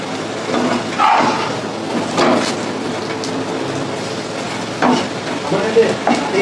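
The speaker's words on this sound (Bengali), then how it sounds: "এইভাবে আমি প্রতিটা পরোটা ভেজে নেবো বন্ধুরা" An egg paratha fries in a pan with a continuous, fairly loud close sizzle, and a few brief scraping touches and small flares in the crackle.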